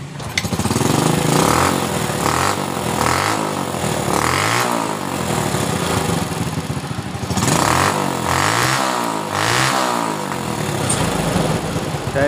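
A Supra Fit motorcycle engine starts and runs loud and close, its rough, pulsing idle swelling into repeated revs and easing back between them over several seconds.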